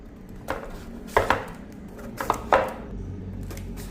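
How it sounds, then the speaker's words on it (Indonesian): Knife chopping a ripe, slightly firm papaya into pieces on a cutting board, a handful of sharp separate thuds and clacks spaced irregularly, close and clear with no talking. "Langsung aja sekarang pepayanya kita belah ya, kita potong-potong."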